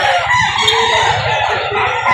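An eight-month-old Hatch rooster at a poultry market in Lipa, Batangas crows loudly and continuously, close by, over a busy background of other fowl clucking.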